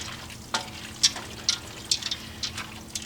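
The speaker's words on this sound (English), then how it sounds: "give everything a good zhuzh after you get it in the pan" Beef stock is stirred into macaroni in a pan for bacon cheeseburger mac. A utensil clinks sharply against the pan about every half second over a wet, sloshing swirl of liquid.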